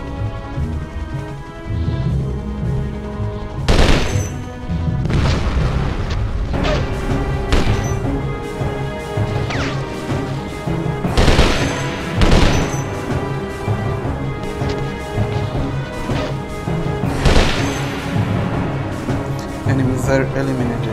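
Gunfire and explosions in the Desert Storm shooter game, loud sharp crashes and booms recurring every few seconds over a busy backdrop of game sound.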